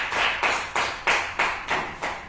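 A congregation at a spiritual gathering claps in unison, with seven loud, evenly spaced claps in a slow steady rhythm over about two seconds.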